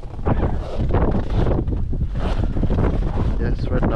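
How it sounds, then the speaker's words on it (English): Strong 50 km/h wind roars and buffets the microphone continuously on frozen Lake Winnipeg at -37C, loud and close, with gusts swelling and easing throughout. "right now it's really windy out"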